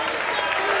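Arena crowd at a professional wrestling match between Eddie Kingston and Kevin Steen cheering and applauding in a dense, continuous wash of noise, steady and loud throughout.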